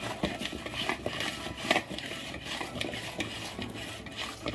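Raw banana slices being mixed with spice powder and salt, a soft continuous rubbing and stirring with light scraping against a bowl, close and quiet with no talk.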